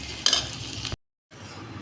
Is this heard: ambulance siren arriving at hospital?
no